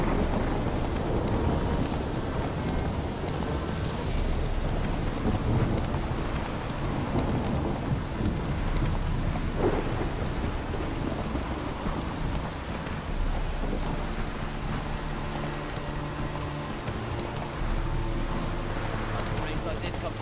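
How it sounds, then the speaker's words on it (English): Steady rain with rumbling thunder in the video game The Witcher 3, a dense, even downpour with low rolling rumbles running throughout at a moderate level. "Rains like this come so common."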